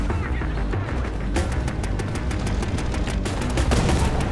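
Tank shells and gunfire in the video game War Thunder, with modern main battle tanks facing WW2 derp tanks: loud, dense rapid bursts of shots, a sustained rattling fusillade with sharp repeated cracks over a rumbling battle background.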